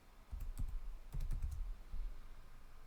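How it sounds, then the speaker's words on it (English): A short burst of typing on a computer keyboard enters a command in a Linux terminal: a handful of soft, close key taps in two small clusters, with a low thump under each stroke and no speech. "you can type in date"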